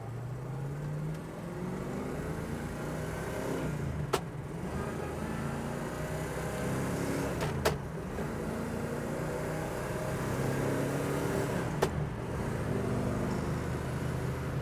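A 1968 Chevrolet Camaro drives along, its engine droning and rising in pitch through a few gear changes, with steady road noise beneath and brief sharp clicks at intervals.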